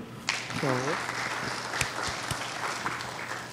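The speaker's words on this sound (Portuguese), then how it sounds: "Por favor, palmas para o Bruno." An audience applauds a second speaker being called up at a São Paulo event, steady clapping filling the room, with a brief voice rising over it near the start.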